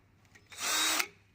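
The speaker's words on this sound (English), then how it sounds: "drill all my holes" A power drill boring a hole in a workshop, one short burst of about half a second, loud and close, with quieter clicks just before.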